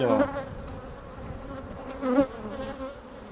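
Honeybees buzz steadily around an opened beehive with its frames pulled out, a dense close-up drone that swells briefly near the end.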